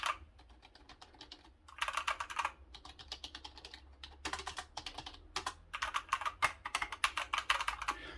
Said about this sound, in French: ça c'est un clavier mécanique